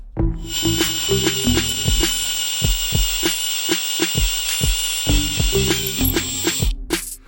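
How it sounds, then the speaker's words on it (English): Rhythmic mechanical clatter of a power drill boring into a Ford Bronco's Coyote engine timing cover, with steady high whine and repeated knocking pulses, close and loud throughout. "So now we're going to go ahead and drill the timing cover."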